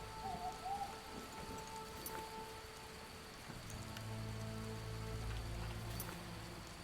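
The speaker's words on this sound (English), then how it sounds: "But it's raining now." Steady rain falls in The Witcher video game, a soft continuous patter with a faint low rumble building in the second half and a brief owl-like hoot early on, no voices.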